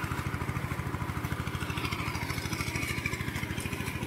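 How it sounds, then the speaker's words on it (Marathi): A tractor engine runs with a steady low rhythmic chugging thump, mid-distance and moderately quiet, with a faint clatter over it and no speech. "मध्ये ह्या येणार आहे ट्रॅक्टर"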